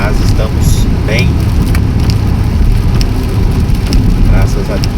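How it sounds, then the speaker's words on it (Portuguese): Rain drums steadily on a Honda Civic driving on a highway, a loud, dense hiss mixed with road rumble, with a few brief higher sounds over the top and no speech. "Voltamos com chuva"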